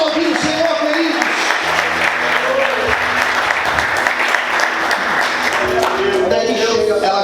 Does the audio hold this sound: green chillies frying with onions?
no